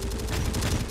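Dense, continuous gunfire in the video game Terminator Dark Fate - Defiance, loud rapid shots overlapping into a steady barrage with no talk.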